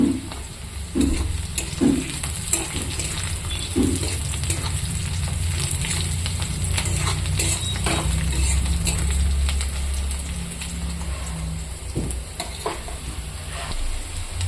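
Onions and bay leaves fry in a pan with a steady close crackle and sizzle, broken by occasional scraping stirs and clatters, continuous and fairly loud.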